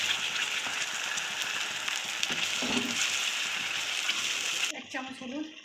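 Half-fried onions and added spices sizzle in a pan with a steady, rain-like hiss. The hiss cuts off near the end, and a voice talks over it at moderate level.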